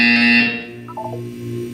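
A loud electronic buzzer from the video game Portal 2 sounds in a sustained harsh tone, then fades into a brief lower chime and steady hum.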